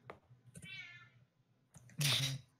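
A person mimics a long, drawn-out cat meow during a Blades in the Dark tabletop session, the wavering voiced call stretching over about a second, followed by a louder burst of voice.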